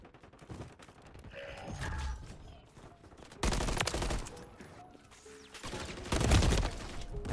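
MCW assault rifle gunfire in a Modern Warfare 3 multiplayer match, with bursts of rapid automatic fire separated by quieter stretches of mechanical rattles and game noise, loud and close.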